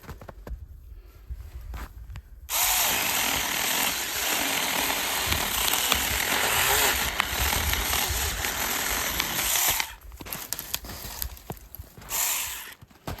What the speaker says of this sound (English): So I'm supposed to use 2 hands with this?